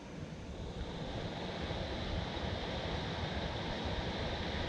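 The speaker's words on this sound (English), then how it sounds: "This wind makes it hard because as the fish is moving out this way" Wind blows steadily across open water during fishing, a constant loud broadband rush buffeting the microphone with no gaps.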